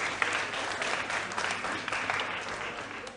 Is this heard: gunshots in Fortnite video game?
no